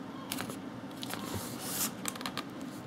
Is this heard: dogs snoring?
no